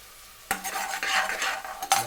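Cumin seeds tipped into a hot pan with whole spices such as pepper, cloves and fennel, for a fenugreek rice dish. A sharp sizzle bursts in, then steady frying crackle and metal spoon scraping, with a second sizzle near the end.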